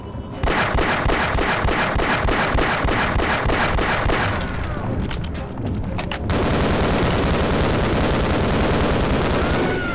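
Sustained rapid gunfire from the player in Half-Life, aimed at a large monster in its lair: a loud, continuous stream of shots that breaks off briefly and then resumes as a heavier, denser barrage.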